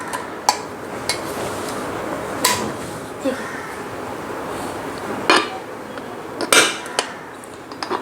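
Several sharp metallic clicks and clanks of a new pressure cooker's lid being handled and seated, scattered irregularly over quiet room noise.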